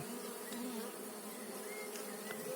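Steady, dense buzzing of many honey bees close by, a continuous droning hum with no voices.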